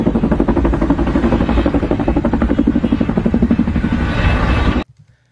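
A patrol helicopter of federal military forces flies close and loud, its rotor chopping in a fast steady pulse with engine roar, then the sound cuts off abruptly.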